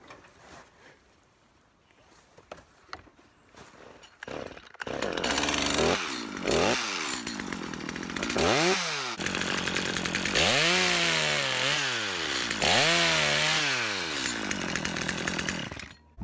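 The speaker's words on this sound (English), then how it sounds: "This will be the first time I use the Still MS250 with the Holzfforma drill attachment to tap trees." A Stihl MS250 gas-powered engine fitted with a Holzfforma drill attachment starts up near the mic and roars steadily while boring tap holes in maple trees, its pitch dipping and rising repeatedly under load.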